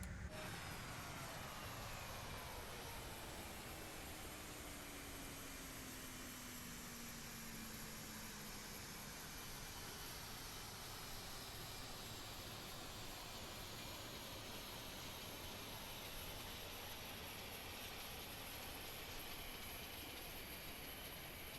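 Engine 1 of a CRJ regional jet spools up in a flight simulator, a steady broad roar with rising and falling whine tones sweeping across it, continuous and fairly loud with no talking.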